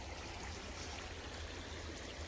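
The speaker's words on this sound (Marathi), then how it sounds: "धबधबा सारखा, म्हणजे तिकडनं पाणी येते वाटते" River water rushes steadily like a small waterfall, a loud, continuous close-up roar with no breaks.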